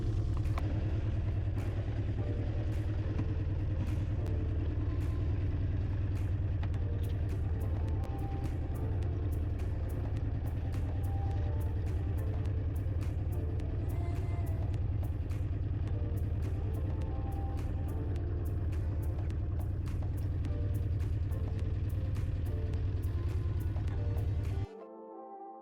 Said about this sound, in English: we fired up the motors and slowly motored back to the marina